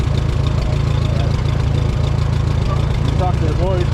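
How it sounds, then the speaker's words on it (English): A tractor heads downhill on a farm track. Its engine chugs with a steady, rhythmic low throb, loud and close throughout, and a voice briefly cuts in near the end. "I don't know if you can hear the tractor"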